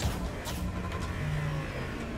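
Lamborghini Huracan engine in the video game Rocket League, a smooth steady mid-pitched drone with slight rises in revs, heard alone for a couple of seconds.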